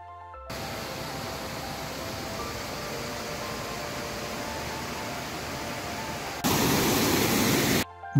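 A mountain waterfall on the Shrikhand Mahadev trek in the Himalayas gives a steady, dense rushing roar with no voices, growing noticeably louder and brighter for its last second or two before cutting off.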